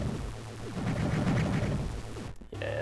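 Rapid weapon fire from the Axiom Verge video game, a dense run of repeated synthetic shots lasting a couple of seconds over a steady game background, breaking off briefly near the end.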